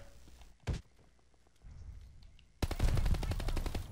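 Gunfire in Call of Duty Vanguard: a loud single shot early on, quieter thuds, then a dense rapid burst of automatic fire that runs to the end.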